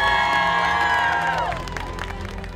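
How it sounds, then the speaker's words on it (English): A crowd cheers and applauds loudly for a footballer's first cap with the US women's national team, a dense roar with shouts that fades slightly toward the end. "Round of applause for Mia's first cap."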